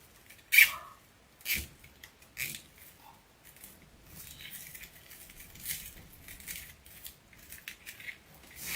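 Scissors snipping off the tails of deco mesh for a winter white poinsettia wreath. A few sharp, close cuts come at the start, followed by quieter rustling and snipping of the mesh.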